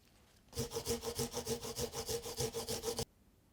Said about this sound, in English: Peel the ginger and garlic and grate.